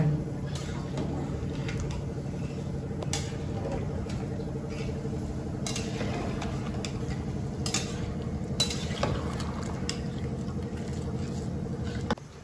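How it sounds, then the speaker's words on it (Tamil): Schezwan rice being stirred in a single pot, with a spoon scraping and clinking against the metal in steady, close strokes over a low kitchen hum. "இது வந்து நம்ம கிளறணும்"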